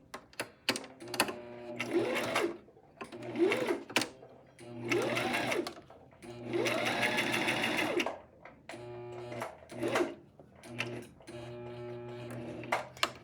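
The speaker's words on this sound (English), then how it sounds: "go ahead and stitch it up" A sewing machine stitches fabric for a hair bow in repeated bursts of rapid mechanical whirring and ticking, some short and one longer run, separated by brief pauses with quiet handling sounds between.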